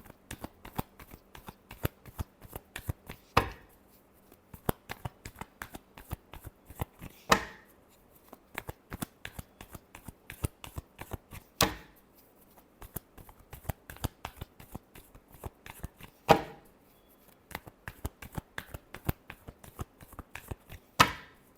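Tarot cards shuffled by hand in a steady riffle of rapid soft slaps and flicks, broken every few seconds by a sharper snap as the deck is squared, close and quiet, with no talking.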